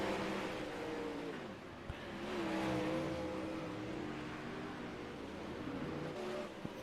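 Dirt track race cars lapping during a practice session at Charlotte, their engines a steady droning roar at moderate distance with gentle rises and falls in pitch as they circle, no talk.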